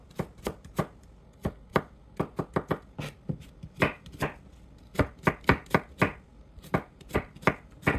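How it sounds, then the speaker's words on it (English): A knife chops sukumawiki (kale) into thin slices on a board, with quick, irregular bursts of sharp, close cuts sounding alone without any talk. "I just chop it so easily, and thin slices"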